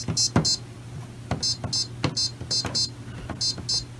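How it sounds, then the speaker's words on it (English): Short electronic selection beeps sound in pairs and clusters from a Maytag top-loader washing machine, interspersed with clicks of button presses over a low mechanical hum. "you'll hear this tone as a selection option right here"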